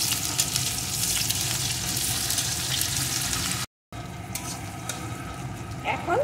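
Chopped onion frying in oil for a red amaranth greens dish, a dense continuous sizzle close by with a brief dropout, then lighter crackling and a faint stir.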